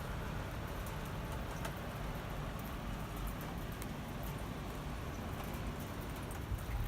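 Steady rain falling outdoors, a soft continuous hiss with faint scattered drips and a low background rumble that stays even throughout.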